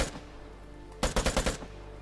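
An AK rifle in the game Vigor fires a short burst of five or six rapid, loud shots after a single earlier shot, with no talking.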